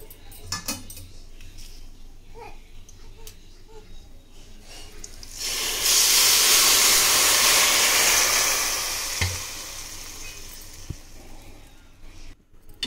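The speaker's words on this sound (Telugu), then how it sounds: "ఈ పాలు అనేది ఆ సేమియాలో పోసుకోవాలి." Milk poured into hot fried vermicelli for sheer kurma gives a sudden loud hissing sizzle that swells, holds for a few seconds and then fades, after some light utensil clinks.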